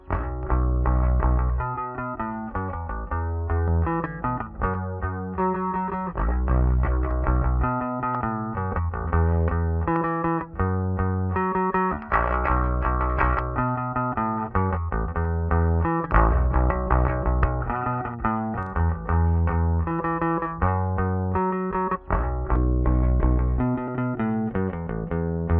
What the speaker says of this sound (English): If you really want to dial in a custom bass sound, this plugin has tons of settings to help you get the sounds that you want.